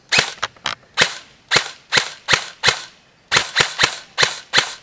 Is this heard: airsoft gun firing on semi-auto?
yes